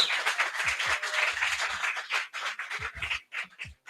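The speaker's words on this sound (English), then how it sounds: "let's give Union a round of applause for hosting this venue for us today" Audience applause from a crowd gathered at a co-working space event, steady dense clapping that thins into separate claps toward the end, heard alone without speech.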